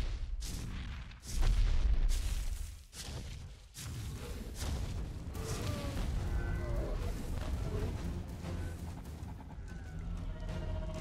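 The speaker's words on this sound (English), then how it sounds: "you just, you know, ignite the floor on fire, like so." A kaiju mod's ground-fire area attack in the video game Ark Survival Evolved, with heavy booming blasts and thuds at the start, then a dense, rumbling roar of spreading flames that carries on steadily.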